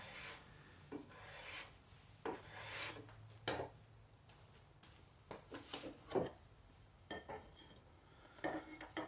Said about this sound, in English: just taking a block plane and taking that string inlay down to the level of the Wenge